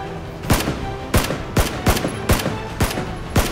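Rapid gunshots from PlayerUnknown's Battlegrounds ring out in a steady series of about eight sharp, loud cracks spaced roughly half a second apart, with no talking between them.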